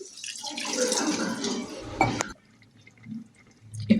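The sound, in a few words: half a tumbler of water poured into cooking keema and potatoes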